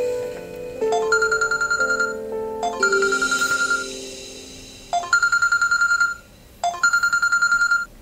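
A mobile phone rings with an incoming call from an ex-wife, its bright electronic ringtone repeating in clipped melodic bursts of rapid pulses, separated by short pauses, loud and close.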